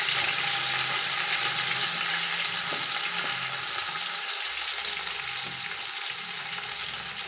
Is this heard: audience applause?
no